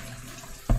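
Acidulated water for apple slices is poured in a kitchen, arriving as a brief, close splash of liquid at the very end after a quiet, low hum.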